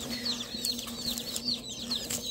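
Several chickens cluck and chirp in a brooder, with repeated short, bright calls overlapping in a steady rhythm above a low constant hum, close by and alone without talk.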